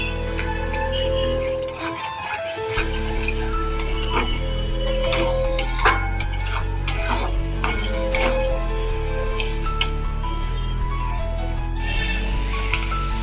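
Spice masala for vegetarian dum aloo is fried and stirred in a pan, a steady sizzle under repeated clinks and scrapes of a spoon against the metal.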